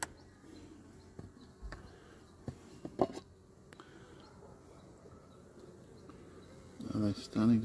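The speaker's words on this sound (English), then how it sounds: "Let's go have a look at the bees and see how they're going." Faint bee buzzing drifts around a quiet outdoor hive, with scattered soft knocks and a louder close rustle near the end.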